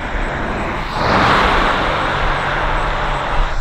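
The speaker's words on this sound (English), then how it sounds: "Sure, there's cars flying by because they have to get to work and stuff." Cars speeding past on a rural road in the middle of nowhere, a broad rushing swell as one vehicle passes close, then fading traffic hiss.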